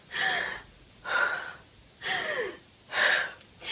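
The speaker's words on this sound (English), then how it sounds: "This loud gasp of breath is so effortful" Four loud, forceful, overdone gasping breaths of a singer come in a steady rhythm, each a harsh, airy inhale separated by brief silence.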